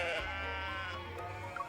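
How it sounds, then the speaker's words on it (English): A sheep in the video game Love and Deepspace gives a single quavering, drawn-out bleat. It is fairly quiet and heard alone, with no talking over it. "After pushing the last overly energetic sheep back into the pen, I look at the little sheep running around and frowned."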